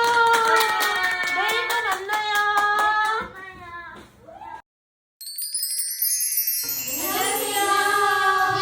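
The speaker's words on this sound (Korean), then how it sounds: "우리 친구들 박수!" Children clap their hands together in a lively burst during a kids' play and performance session, with bright ringing tones and voices mixed in before a short silence, then more chiming sounds.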